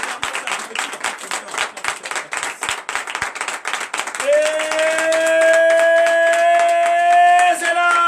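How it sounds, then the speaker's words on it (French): A congregation at a morning prayer service clapping loudly and steadily in rhythm, the beat continuing as a sustained voice rises over it in the second half. "Acclame-le très fort."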